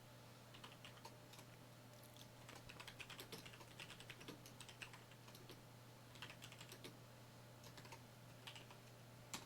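Quiet, steady typing on a computer keyboard, soft clustered keystrokes in irregular bursts over a constant low hum, with no talk.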